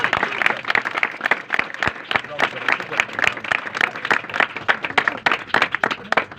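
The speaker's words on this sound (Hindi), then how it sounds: "खुदा बाप के लिए एक बार जोरदार तालियां।" An audience at a worship gathering claps enthusiastically, a dense run of rapid, uneven hand claps at moderate distance that keeps going without a break. Voices carry faintly beneath the clapping.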